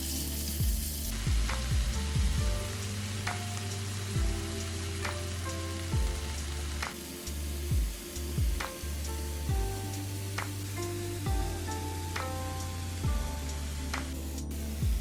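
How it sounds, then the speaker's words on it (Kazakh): Meat and vegetables sizzle steadily in hot oil, with a spatula scraping and clattering against the pan every second or so. "үстіне көкөністі қосып, жақсылап қуыратын боламыз"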